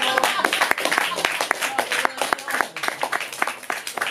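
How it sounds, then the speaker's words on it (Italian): An audience at a comedy show applauding, with scattered sharp claps in an uneven rhythm, fairly close and moderately loud, while a voice talks over them. "Allora fatevi un applauso."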